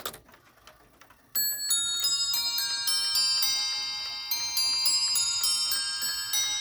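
A kit-built bracket clock with a Kieninger movement chimes on eight bells: bright, sustained bell tones ring out in a steady, overlapping cascade after a brief quiet tick, close and clear with no talking.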